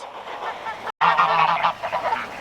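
Geese honk close by on a farm, a dense chorus of overlapping nasal calls that cuts out for an instant and then resumes just as loud.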